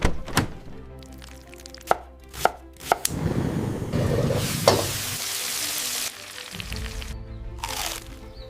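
Food being chopped in an anime-style ASMR cooking scene, with sharp knife strikes on a board at first, then sizzling frying and stirring noise, close and crisp without talk.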